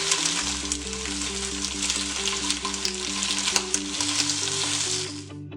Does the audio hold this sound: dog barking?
no